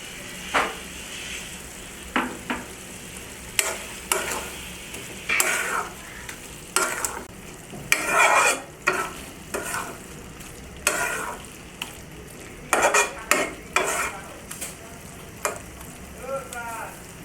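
Doi mogoj, an Eid-special yogurt brain curry with coriander leaves and green chillies, being stirred in a pan: a spoon scrapes in irregular bursts over a soft, steady sizzle, close and with no talking.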